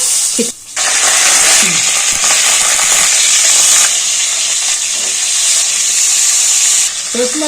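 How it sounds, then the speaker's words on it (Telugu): Hot oil sizzles loudly and steadily, with faint crackling pops of mustard and cumin seeds spluttering and a couple of brief clinks from a utensil. "ఆవాలు, జీలకర్ర చిటపటానంటప్పుడు ఇంగువ వేసుకొని"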